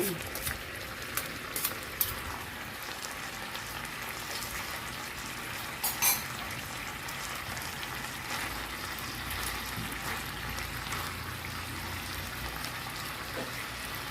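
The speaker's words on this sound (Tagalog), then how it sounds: "So meron tayong ginisang cabbage in ayo, gulay at karni." Ground pork and cabbage sautéing in a pan, a steady, close frying hiss and sizzle running throughout, with occasional clinks of a spatula against the pan.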